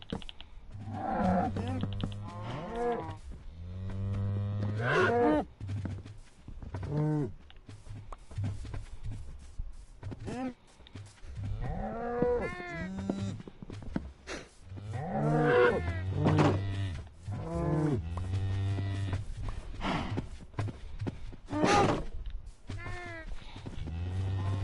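Several cows mooing in a pen in Minecraft Bedrock Edition, repeated drawn-out lowing calls overlapping at irregular intervals over a low steady hum.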